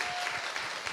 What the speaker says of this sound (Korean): 우리 마이클 조 선교사님에게 우리 감사의 박수 한번 보내겠습니다